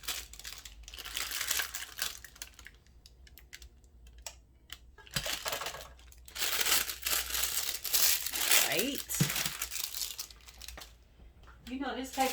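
Shrink wrap paper crinkles and rustles in bursts while soap is being wrapped, close and busy, with a few brief spoken words in between.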